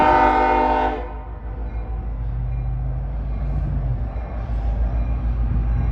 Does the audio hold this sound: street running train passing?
yes